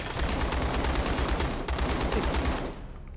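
Rapid automatic gunfire in the Black Hawk Down scenario of the war game Call to Arms, a close, loud, unbroken rattle of shots for about three seconds before it cuts off.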